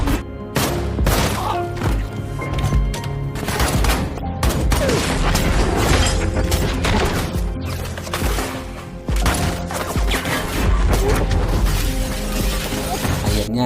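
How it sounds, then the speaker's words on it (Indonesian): Loud, chaotic bursts of gunfire with sharp repeated shots, crashes and thuds, dense and continuous like an intense action-movie shootout. "Lim terbebas dari lift dan langsung main tembak-tembakan dengan Jang Myung-jun dan anak buahnya."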